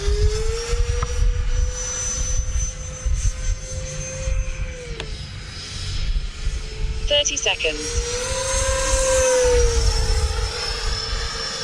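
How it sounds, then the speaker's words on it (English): A Freewing F/A-18C Blue Angels 90mm electric ducted-fan RC jet with a lightweight FMS motor whines steadily and loudly, its pitch dropping sharply then rising again, over broad wind and handling noise throughout. "this is using the lighter weight 1950 Freewing motor, or sorry, FMS motor that you find in the E-Flight Viper 90mm"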